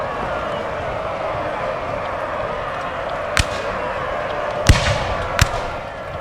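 Musket volleys in the Napoleonic battle game Napoleon Total War, a Siege of Vienna 1809 battle, sound as three sharp cracks spread over a few seconds, the middle one loudest, standing out from a steady wash of battlefield noise.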